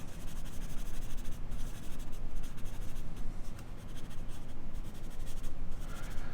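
A blending stump rubbing over graphite pencil marks on a paper drawing, a steady close scratchy friction that continues with brief pauses and no talk.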